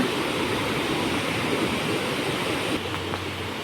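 The Phlio waterfall in Chanthaburi, at its first tier and swollen with rain, gives off a loud, steady, unbroken rush of falling water.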